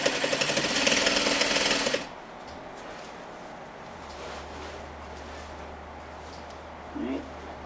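An electric sewing machine runs fast for about two seconds, stitching a Parsons chair slip cover along the piping cord, a loud rapid mechanical whir, then it stops and a quiet hum remains.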